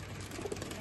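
A brief, soft coo from racing pigeons in a loft, faint and low, over a quiet background.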